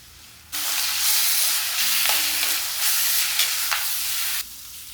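Turmeric, chilli and coriander powders are stirred into hot oil in a frying pan, a close sizzling hiss with spoon scrapes that starts suddenly, holds steady for about four seconds, then drops away.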